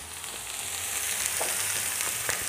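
Sous-vide cooked meat sears in a hot pan with a steady, close, bright sizzle and occasional crackles and pops, with no talking.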